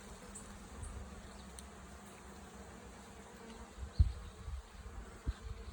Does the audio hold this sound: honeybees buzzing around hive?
yes